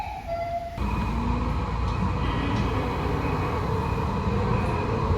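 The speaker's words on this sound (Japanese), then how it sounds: "市営地下鉄東西線というのに乗ります。" Inside a Kyoto Municipal Subway Tozai Line train, a loud, steady rolling rumble with a faint whine fills the car after a brief quieter moment at the start. No one speaks.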